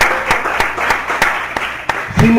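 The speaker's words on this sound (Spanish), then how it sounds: "Vamos a brindarle un fuerte aplauso a nuestro Dios." A church congregation claps in unison, sharp regular beats roughly three per second over a murmuring crowd wash, ending with a louder burst of sound.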